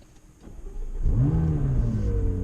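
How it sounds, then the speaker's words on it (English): A McLaren 570GT engine starts up with a button press, a quiet lead-in followed by a sudden loud catch and revving flare that settles into a steady rumbling idle. "So first things first, fire it up."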